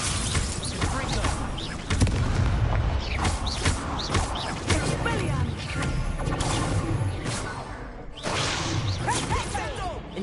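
Casting the Incendio fire spell during combat in Hogwarts Legacy, with repeated whooshes, creaks and crashing hits layered over busy game noise and some voice-like chatter.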